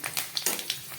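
Cumin seeds, a bay leaf and green chillies hitting frying oil used for dhoka, a brief crackling sizzle with small sharp pops, close and alone.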